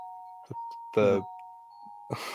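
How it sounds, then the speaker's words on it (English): A home doorbell chimes as a steady ringing tone held through the whole moment, with a person talking over it in short bursts. "I'm sure you can hear my doorbell."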